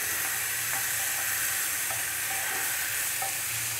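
Onions, capsicum, green onion, chopped chilli and ginger-garlic paste fry in a pan for veg manchurian, giving a steady loud sizzle with faint stirring scrapes and no voices.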